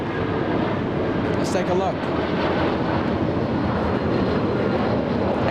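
Japan Airlines and All Nippon jets taking off at LAX, a sustained broadband jet engine roar that holds steady at moderate distance while someone talks over it.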